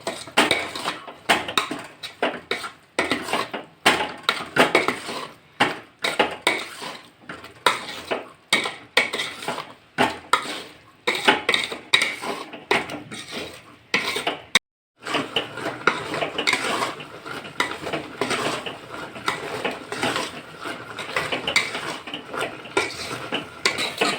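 Metal spoon stirring and scraping a grated coconut barfi mixture in a pan, a close run of rhythmic clinks and scrapes with short pauses and faint sizzling underneath, no one talking.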